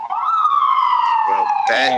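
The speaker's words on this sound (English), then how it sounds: "there's the ambulance right there." An ambulance siren wails loud and near in a single rising then slowly falling sweep, with some rougher noise cutting in at the very end.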